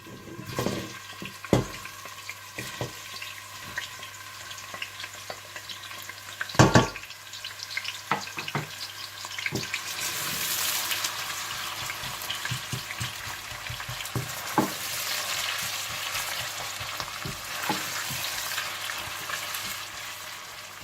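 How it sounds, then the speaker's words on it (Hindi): Onions frying in hot desi ghee, a continuous crackling sizzle that grows denser over time, punctuated early by a few clatters as they go into the pan, with no speech. "जब घी गरम हो जाए तो आप इसमें प्याज डालकर गोल्डन ब्राउन कर लीजिए।"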